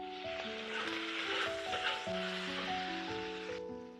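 A wok of dried tofu stir-fry with chili bean paste sizzles steadily as cooking wine is added, a soft hiss running beneath gentle background music.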